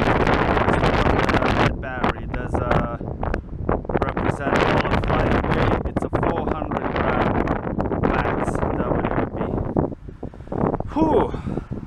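Strong gusting wind buffets the microphone outdoors during a mini H-quad drone frame crash test, heavy broadband rumble and blasts throughout, with someone talking over it.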